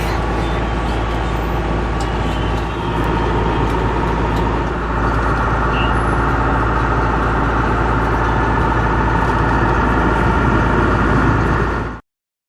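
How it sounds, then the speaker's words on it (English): Road traffic in South India between Cochin and Mysore, with trucks and buses idling and rumbling nearby in a steady low engine drone that continues until an abrupt cutoff, and no voices. "Traffic."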